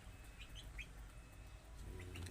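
Backyard hens at feeding time, with faint, soft clucks and a few short chirps over a low steady background hum, quiet and somewhat distant.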